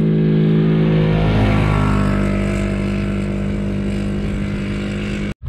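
A STELS quad bike engine pulls away on a dirt outing, a steady loud motor drone that rises and thins as it moves off, ending in a sudden cutoff.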